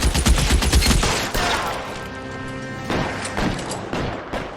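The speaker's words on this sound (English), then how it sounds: "that motherfucker shot way more than 20 rounds without reloading" Rapid automatic gunfire in L.A. Noire. Loud, fast bursts of shots open the clip, then a ringing pause, and the shooting returns in heavier bursts before tailing off.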